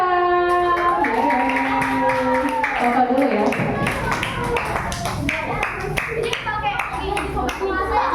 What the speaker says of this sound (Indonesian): Kita kasih tepuk tangan yang meriah untuk kelompok 6.